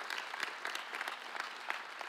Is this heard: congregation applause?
yes